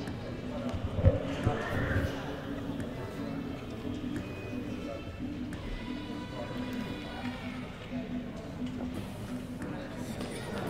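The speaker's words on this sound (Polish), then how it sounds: "Ogier Alpen Bioten jest prezentowany przez ucznia tutejszego technikum hodowli koni Krystiana Wojtasia." A KWPN stallion being presented in hand, with hoof clip-clop and a brief neigh around the second second, heard against steady background noise and crowd murmur.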